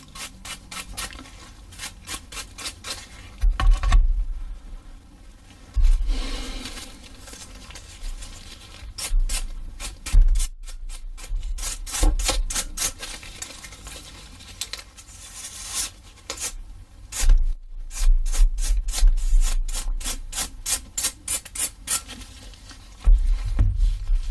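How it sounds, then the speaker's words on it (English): A brush sweeps dust off an MSI Ventus 3X RTX 4060 Ti graphics card during a teardown, giving close, steady rhythmic scratchy strokes that run continuously with brief pauses. "I'm gonna use a brush to make sure there's no dust."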